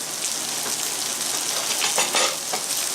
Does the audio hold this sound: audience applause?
no